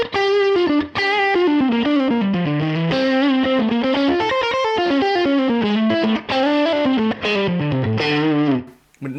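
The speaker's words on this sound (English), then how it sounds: "some kind of juicy lead tones that have that kind of Dumble" Electric guitar lead tone through a UAFX Dumble overdrive pedal, smooth and amp-like with no spiky edge, playing a continuous singing melodic line of sustained notes and bends, loud and upfront with no talking.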